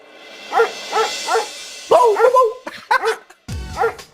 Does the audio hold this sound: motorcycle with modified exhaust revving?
no